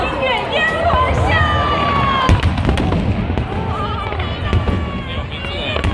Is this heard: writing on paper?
no